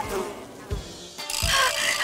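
Buzzing insects swarm close by, a busy droning hum that swells and shifts over two seconds with brief thumps in between.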